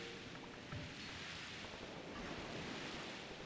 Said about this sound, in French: je comprends mieux pourquoi il y a des vagues